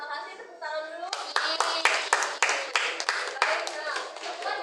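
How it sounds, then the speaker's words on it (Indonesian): Children clap their hands together in a classroom, a burst of sharp, fairly close claps with an uneven rhythm that follows a short stretch of a child's or teacher's voice at the start. "Terima kasih, tepuk tangan dulu."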